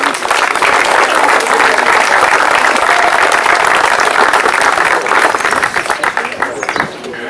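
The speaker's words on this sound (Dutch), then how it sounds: "Dames en heren, maak ik een hartelijke applaus voor dit fraaie kunstwerk." An audience applauds an unveiled artwork at a summer season opening, steady dense clapping filling the room for about seven seconds before easing off at the end.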